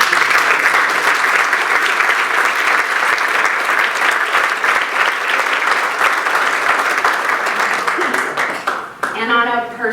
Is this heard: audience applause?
yes